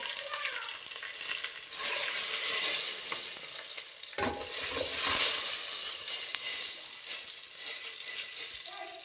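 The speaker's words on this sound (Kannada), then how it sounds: "1 ಗೆಡ್ಡೆ ಜಜ್ಜಿರುವಂಥ ಬೆಳ್ಳುಳ್ಳಿ, ಬ್ಯಾಡಗಿ ಮೆಣಸಿನ್ಕಾಯಿ, ಜೊತೆಗೆ ಕರಿಬೇವಿನ ಸೊಪ್ಪು ಇದನ್ನು ಹಾಕಿ ಫ್ರೈ ಮಾಡೋಣ ಸ್ವಲ್ಪ." Crushed garlic, Byadgi chillies and curry leaves sizzle and crackle steadily in hot oil, with stirring through the dense hiss and a brief louder burst partway as ingredients are tossed, close and without talk.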